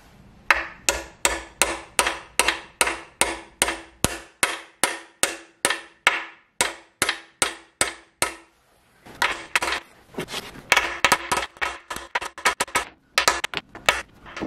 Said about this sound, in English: At this point, I'm going to drive in the dowel pins.